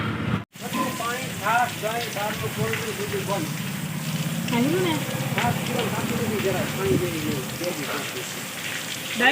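Steady rain patters as a continuous hiss underneath people talking nearby for most of the stretch.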